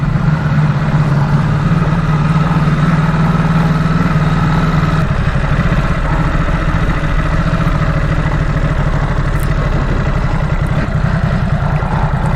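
A Ducati SuperSport sport bike on a road trip, its engine droning steadily and loudly at close range for the whole stretch, with a slight shift in tone partway through and no talking.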